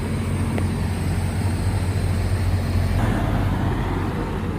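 A semi truck backs up toward a trailer to hook it on asphalt, its engine a loud, steady diesel rumble close by with no talk.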